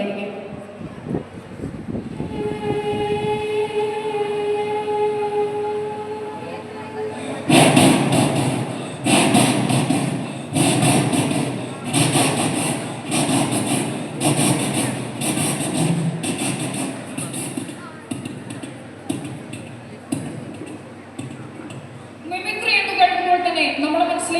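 A mimicry performer at the 63rd Kerala Kalotsavam uses only the voice to imitate the Kanyakumari–Ernakulam Express departing Kanyakumari Junction. Drawn-out tonal hoots give way to a loud, steady run of rhythmic chugging pulses.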